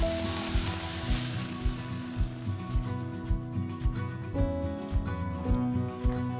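Beef sizzles steadily in a hot pan, with regular soft clacks of a utensil stirring and tossing the meat, close and continuous without speech.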